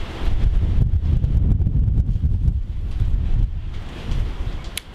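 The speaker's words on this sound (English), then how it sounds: "It's windy." Strong wind gusts roar steadily across a vegetable garden with blight-hit tomato plants, a loud, continuous buffeting rush against the microphone with no voices.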